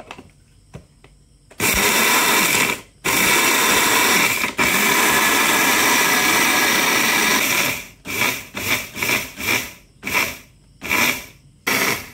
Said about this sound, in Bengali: আমি 2 বার মশলাগুলো ব্লেন্ড করব।